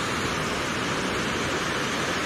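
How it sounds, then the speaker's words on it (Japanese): Fukiware Falls in Gunma, Japan, a broad waterfall roaring as a steady, dense, unbroken rush of water heard up close with no voices. "吹き割れの滝、ここが一番のビュースポットでした。"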